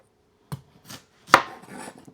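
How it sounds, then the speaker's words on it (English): A knife chops turnip a few times on a cutting board, sparse crisp strikes with one louder thunk, close by and without talk. "Let's get chopping."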